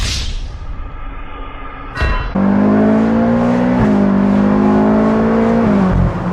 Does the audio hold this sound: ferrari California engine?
yes